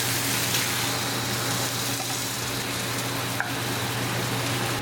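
Beef curry in a pan over a medium gas flame, with coconut milk just poured in, gives a steady, even sizzle and bubbling hiss that runs throughout without pause.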